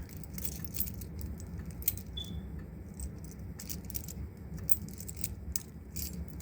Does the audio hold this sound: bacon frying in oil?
no